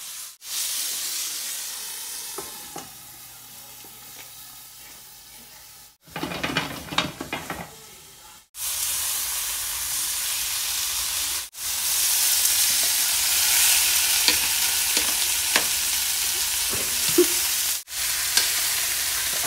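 Onions frying in a hot pan for liver and onions give a loud, steady hissing sizzle, interrupted by a few short gaps, with occasional stirring clatter between bursts.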